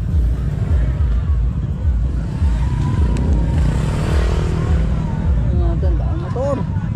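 Many motorcycles idle and rev at a large motorcycle club gathering, a loud throbbing engine rumble with pulsing low beats and a few rising throttle blips, while people talk nearby.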